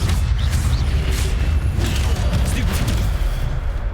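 Incendio fire spell blasts in Hogwarts Legacy on PC, a loud dense rumble of booming bursts and crackling impacts filling the whole stretch, with a few sharper transient hits over continuous low roar.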